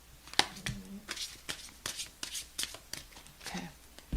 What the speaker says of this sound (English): Maddie, one more shuffle.